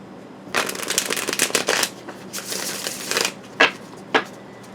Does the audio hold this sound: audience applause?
no